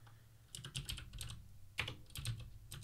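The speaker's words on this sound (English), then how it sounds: "This is me typing" Computer keyboard typing at a desk while working in a terminal, a steady run of quick close key clicks in uneven bursts with a few louder strokes, no talking.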